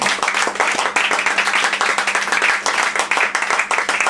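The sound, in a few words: audience applause for Pierre Meige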